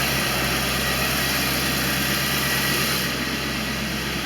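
A 1989 Corvette Roadster engine idles steadily with a low, even rumble and a constant hum, close by and with no speech.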